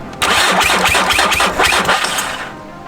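A VW Passat or Audi A5 engine with engine problems cranks and catches with a rough, sputtering rumble for a couple of seconds, then winds down and dies away.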